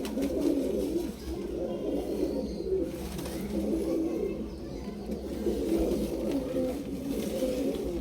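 Female pigeons cooing inside a sectioned pigeon loft, a steady overlapping chorus of low burbling coos that carries on without a break, close by and fairly loud.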